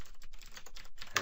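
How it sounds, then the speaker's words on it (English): Keystrokes on a computer keyboard come in a short, close burst of irregular clicks, entering login text on a website admin page, with a sharper tap near the end. "I have to type in admin"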